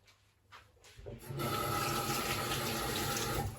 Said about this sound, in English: Just quickly washing my hands there.